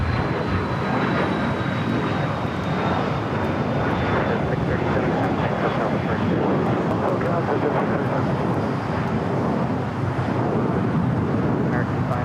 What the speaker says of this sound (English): That's Air France 777 touching down here on the south side